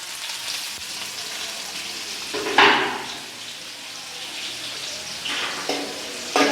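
Onions fry in a pan for a mutton fry, giving a continuous loud sizzle close by, with brief bursts as they are stirred or tossed and no talking.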